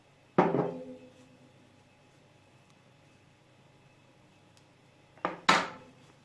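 A spoon scrapes and clinks against a bowl while flour dough is mixed for soft balloon bazlama flatbread, with two separate bursts of clatter at the start and near the end and quiet in between.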